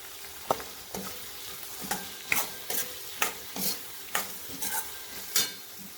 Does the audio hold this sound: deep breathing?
no